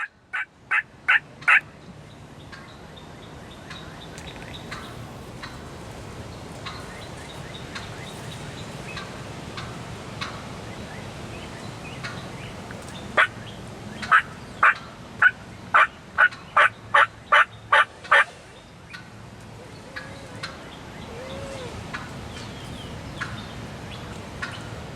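Wild turkey hens calling in a spring hunting setting, a quiet outdoor backdrop broken by short bursts of sharp clucks and yelps, including a rapid run of about eight evenly spaced calls midway through.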